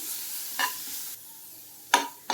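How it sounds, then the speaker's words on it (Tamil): Carrots sautéing in a pan for moong dal idli, heard as a soft background hiss broken by three short scraping stirs of a spoon against the pan. "நான் கொஞ்சமாக கேரட் ஆட் பண்ணுறேன். இது கொஞ்ச நேரம் வதங்கினா போதும்."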